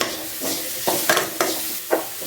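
Onion and a halved green chili frying in a pan while a spoon stirs them, with a steady sizzle broken by four or five sharp scraping strokes, close and fairly loud.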